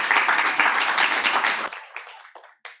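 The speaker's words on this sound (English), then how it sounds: "you can give her a round of applause." An audience at a book launch applauds in a dense burst of many hands clapping, which thins out to a few scattered claps and then stops.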